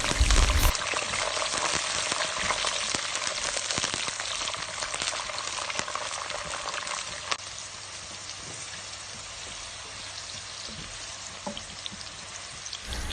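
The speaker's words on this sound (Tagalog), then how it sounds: "una sa lahat ay i-fry muna natin yung ating beans" Beans frying in hot oil in a pan, a dense, steady sizzle and crackle that starts loud and eases slightly, continuous throughout with no voices.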